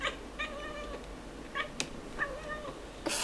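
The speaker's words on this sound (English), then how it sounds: "What's that kitty doing?" A cat meowing repeatedly, several drawn-out, tonal meows in a row with brief gaps, close and clear over a low background hum.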